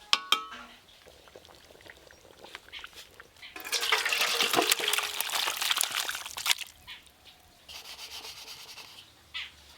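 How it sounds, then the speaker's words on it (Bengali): Chicken curry with chopped coriander being poured and scraped out of a pan, a dense rough scraping rush lasting about three seconds, framed by quieter clinks and shuffling before and after. "ধনেপাতা দিয়ে খুব ভালো করে মেশানো হয়ে গেছে, এবার ঢেলে নেব।"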